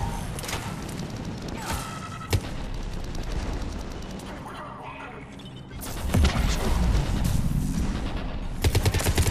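Rapid weapon fire from a sniper-style rifle in Mass Effect 3 multiplayer, heavy dense bursts with a sharp crack near the middle and a louder barrage toward the end, set against constant game combat noise.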